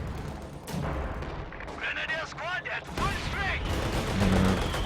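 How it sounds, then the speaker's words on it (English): Grenadiers fire rifles on Soviet engineers repairing a T-34-85 tank in Company of Heroes 2, with rattling gunfire, booms and whistling battle effects under steady commentary talk. "Grenadiers firing on those common engineers, trying to repair that T-3485."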